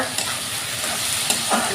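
Mung dal, rice and chopped tomato frying together in a pan for a fish-head muri ghonto, with a steady sizzle and scraping stirs running throughout, moderately loud and close.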